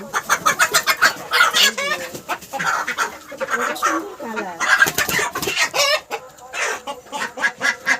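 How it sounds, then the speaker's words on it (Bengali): Native deshi hens cluck busily and repeatedly at close range, with an occasional higher squawk, while a person speaks over the flock. "আর এইটা হচ্ছে কি দেশি মুরগি"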